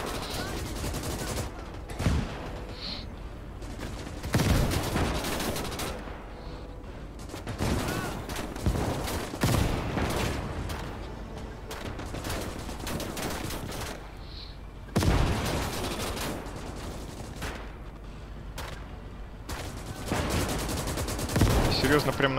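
Machine gun fire in the WWII strategy game Gates of Hell during a 2v2 online tank battle through an industrial zone, with repeated sharp bursts and scattered single shots popping over a steady rumbling battle backdrop.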